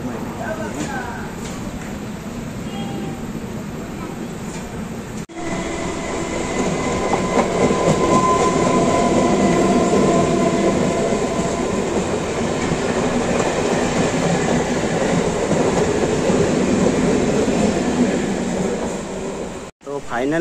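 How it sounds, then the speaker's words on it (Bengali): The Padatik superfast express rolls along toward Sealdah, heard from inside the coach as a loud, continuous rumble with rhythmic wheel clatter that swells and holds steady. "সুপারফাস্ট এক্সপ্রেস এই ট্রেনটি খুব ভালো গতিতেই আমাদেরকে শিয়ালদা পর্যন্ত পৌঁছে দেবে"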